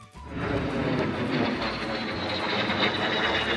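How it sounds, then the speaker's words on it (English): A jet aircraft flies overhead on an outdoor nature hike, making a steady, loud broadband roar that rises within the first half second and holds for several seconds. "Look at that jet, everyone."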